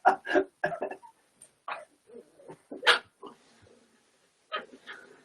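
A puppy whimpers, yips and barks in short, uneven bursts with gaps between, close and fairly loud, with no talking.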